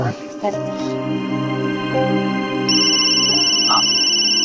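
A bright electronic phone ringtone starts partway through and keeps sounding steadily over background music and a voice talking.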